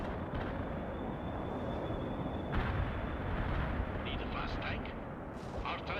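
An artillery barrage in the video game World in Conflict makes a dense, continuous rumbling roar of heavy gunfire and blasts, loud and sustained throughout.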